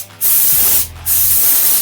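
Spray gun spraying Lacmé neoprene contact glue with compressed air, two loud hissing bursts separated by a brief pause, close and alone.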